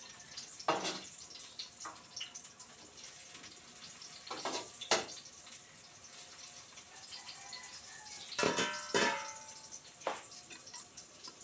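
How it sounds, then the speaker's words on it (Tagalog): Tomatoes and onions frying in a pan give a soft, continuous sizzle with a few louder crackles and clinks scattered through it. The cooking is for a tuna egg omelette, and no one speaks. "May piniprito akong kamatis. Tsaka sibuyas."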